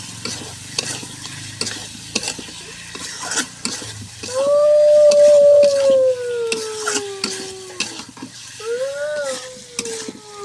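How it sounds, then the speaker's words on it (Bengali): Chicken pieces stirred into spices in a pan, village style: repeated scraping strokes over a frying sizzle, joined midway by a long, loud, wavering whine. "মশলার মধ্যে ভালো করে লাড়া ফাড়া করে দেবো"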